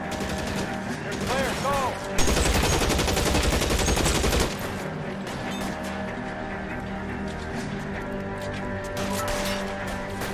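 Rapid bursts of gunfire from a gun in L.A. Noire, a loud dense volley in the middle with scattered shots around it, over a steady game background and brief talk.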